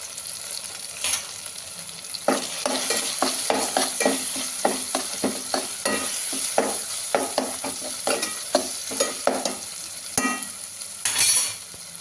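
Brinjal pulao ingredients frying and being stirred in a pan. A steady sizzle runs throughout, broken by repeated scrapes and clinks of a utensil against the pan, close up and with no talking.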